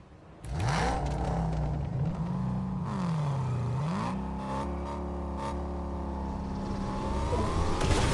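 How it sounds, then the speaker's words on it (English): Boss car from the Fortnite video game driving along train tracks, a loud, steady engine note with rising and falling revs and a pitch sweep, running throughout without talk. "There's a boss car coming."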